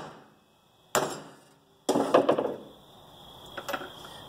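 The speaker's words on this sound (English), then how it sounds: "Then you take your hammer." A hammer strikes a lug nut set on a front suspension part of a 1985 Mercedes 300CD, a single sharp hit followed by a quick cluster of metallic blows and then a fainter pair.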